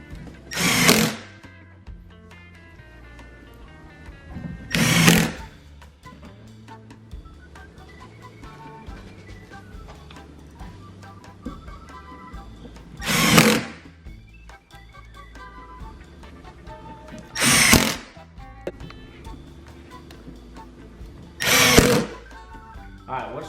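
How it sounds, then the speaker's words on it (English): A power drill drives screws into a PVC snake rack in five separate short bursts, each a loud whirring spin lasting about a second, with quiet pauses between. "We're gonna put all of our screws in."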